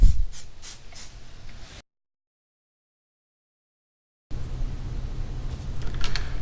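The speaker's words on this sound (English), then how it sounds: "Then one final mist coat and our model will have adequate release applied to the surface for mold making." Short hissing bursts of mold release spray are misted onto a sculpted model, a few brief sprays, then silence, then a longer soft spray hiss close by.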